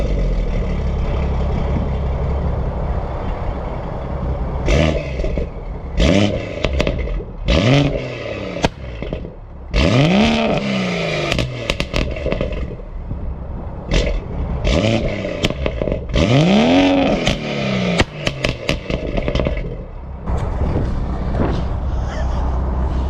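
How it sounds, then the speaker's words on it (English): A BMW M140i fitted with a downpipe and double resonator delete is revved repeatedly, with loud sharp throttle blips that rise and fall, separated by idle and crackling pops, heard close up without talk. "what my M140i sounds like with a downpipe and a double res delete"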